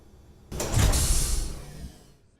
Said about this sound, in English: And there, the door's open.